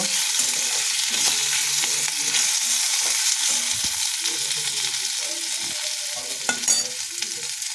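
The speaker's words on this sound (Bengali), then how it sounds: "নুন, চিনি সব দিয়ে ভালো করে মশলাটা কষে নেব" Spice paste with turmeric, salt and sugar fries in a pan for a spinach and fish-head dish, giving a loud, continuous sizzle broken by the scrape and knock of stirring.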